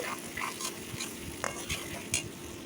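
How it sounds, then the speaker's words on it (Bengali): Chopped onions frying in oil with bay leaf and cinnamon as whole garam masala, stirred with a utensil: a continuous sizzle with repeated scraping strokes and light clinks against the pan, close and fairly loud. "আর একটু পরে আমি দিয়ে দিলাম বেশ কিছু পেঁয়াজ কুচি এখন আমি সুন্দর করে এটা নাড়িয়ে নেব"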